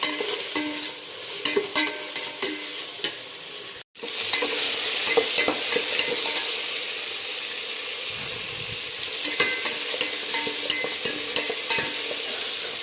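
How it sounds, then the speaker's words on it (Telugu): Mint and coriander stirred and fried in a pan while making fried rice and aloo curry, with a continuous close, bright sizzle and repeated scraping spoon strokes, briefly cut near four seconds and then running steadily. "ఇందులో పుదీనా, కొత్తిమీర కూడా వేసేసేయండి."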